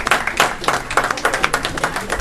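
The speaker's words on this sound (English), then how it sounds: "Let's give her a round of applause" Applause at a North Miami city council meeting, a short burst of scattered clapping from a modest crowd, fairly close and uneven, with no voices over it.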